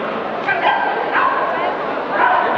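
A white dog at a 1997 agility world championship gives excited yips and whimpering barks amid steady crowd and arena noise, with an announcer talking over it.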